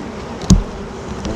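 Honey bees buzz softly and steadily during an early spring hive inspection, with one brief louder bump partway through against the low, constant insect hum.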